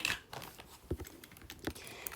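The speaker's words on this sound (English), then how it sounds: "Next, we have a keyboard clicker." Clicks from a square keyboard clicker fidget toy, a few sharp taps spaced unevenly across a quiet background, close and fairly faint.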